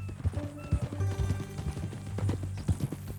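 Horse hooves clip-clop at a steady walking rhythm in Red Dead Redemption 2, close and clear, with a whinny rising over the footfalls partway through.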